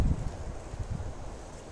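Low rumbling wind buffeting outdoors, gusting unevenly and fairly faint, with no voices.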